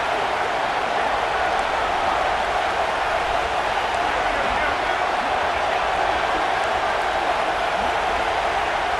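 Steady stadium crowd roar in EA Sports College Football 26, a dense continuous wash of noise swelling as fans back the defense on third down, with no voices standing out.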